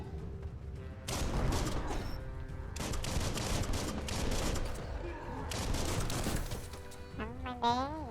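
Gunfire from shooting at a barrel in the game Biomutant, rapid bursts of shots in several loud volleys over layered game music and effects, ending with a wavering synthetic tone.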